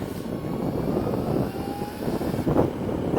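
Agusta electric motorcycle motor at about quarter throttle, a steady whirring drone with a faint rising whine and wind rush, close and moderately loud, no talk.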